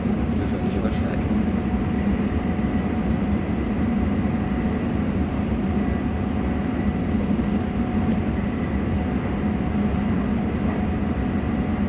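A BR101 electric locomotive hauls a replacement InterCity toward Karlsruhe Hbf on a high-speed line in Train Simulator 2016, giving a steady, loud, continuous rumble and rail drone throughout.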